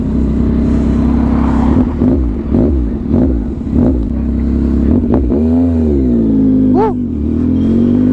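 A 2021 Yamaha MT-09 motorcycle fitted with an SC Project exhaust revs loudly and close by, with repeated throttle blips rising and falling, then one longer surging rev and a sharp pop near the end.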